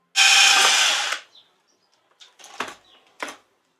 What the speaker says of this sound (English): Drilling holes in my new concrete floor.